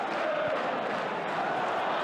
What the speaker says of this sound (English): The applause is for those red shirts comfortable in possession.